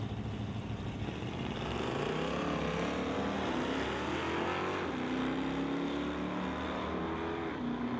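Drag race engines from an Oldsmobile and a Dodge Dart at an NHRA Summit ET bracket event, a loud continuous roar with rising and falling pitch sweeps as the cars launch and run down the strip.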